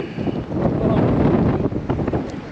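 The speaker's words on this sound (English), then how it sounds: "The wind." Wind blows across Hammonton Lake during kayak fishing, a loud steady rush of air hitting the microphone with faint water noise underneath, no clear talk.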